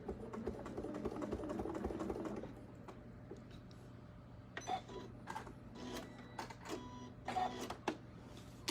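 A domestic sewing machine stitches a quilt border, sounding in quiet bursts: a steady hum, then a few short separate stitch clicks and thumps spaced apart, fairly faint and close, with no talking.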